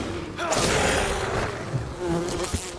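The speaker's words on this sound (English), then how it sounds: "The bees." Bees drone in the game Enshrouded, a dense continuous buzz filling the scene at steady, fairly loud level with no voices over it.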